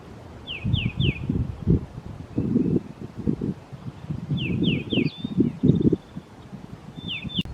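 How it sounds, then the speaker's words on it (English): Short bursts of a field sparrow's high, quick chirps repeat several times, with wind and rustling close to the microphone. "I think that's a field sparrow."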